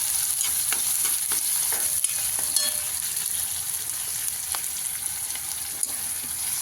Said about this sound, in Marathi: मग आता आपण कांदा टाकून घेतलेला आता लाल होईपर्यंत त्याला हलवून घे